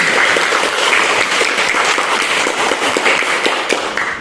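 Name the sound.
applause from audience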